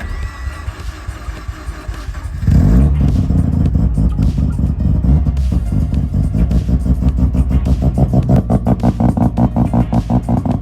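A rotary-swapped Subaru BRZ running a Link ECU cranks and fires at about two and a half seconds. It settles into a loud, close, choppy idle with rhythmic pulsing revs.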